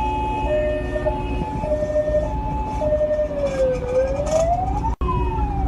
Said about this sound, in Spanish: viene una ambulancia ahí atrás. No lo dejan pasar.